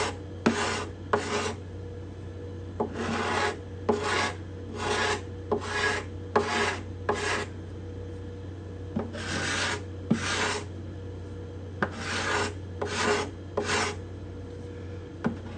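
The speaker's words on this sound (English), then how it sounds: "this cedar top makes when I'm scraping. It's a more kind of a woodsy sound," A hand scraper works the bindings and purflings on the cedar top of a Desmond guitar. Close, dry rasping strokes come in quick runs of two to four, separated by short pauses, over a steady low hum with no talking.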